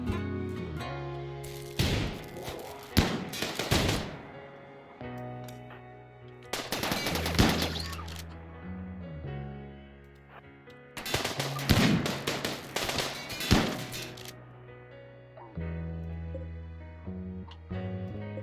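Gunfire during a raid in the colony-management game RimWorld: bursts of rapid automatic shots come in several loud clusters separated by quieter gaps, with lower game sound continuing underneath.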